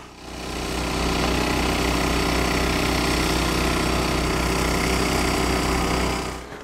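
An engine-driven water pump sits in a sled beside a hole in the ice on a frozen lake. Its steady, close idling drone fades in, runs evenly for several seconds, then fades out, with no talking.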